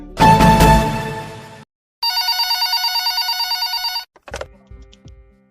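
A telephone rings for a caller on a TV quiz show: an electronic ringing tone sounds twice in long bursts, the second a rapid trilling ring, followed by a brief clunk as it is picked up.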